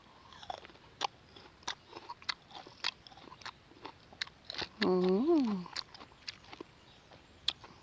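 Crisp green mango eaten with a spicy fermented fish chili dip gives close, sharp crunchy bites and steady chewing clicks. Midway a brief, wavering hummed voice sounds over the chewing.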